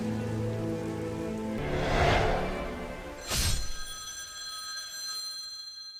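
A phone rings in the opening of a video game, a bright trilling tone surfacing over loud, dense music and a rushing wash of noise, with a sharp hit landing just before the ring.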